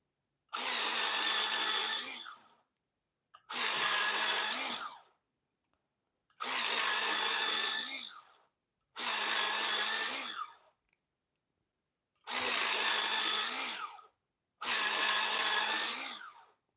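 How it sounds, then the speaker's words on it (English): Watercolor pencils being sharpened in an electric pencil sharpener produce six loud, close whirring grinds of about one to two seconds each, separated by short silences. "I need to sharpen."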